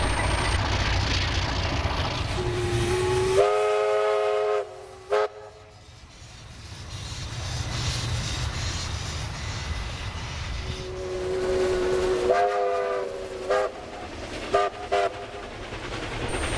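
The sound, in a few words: locomotive-hauled train passing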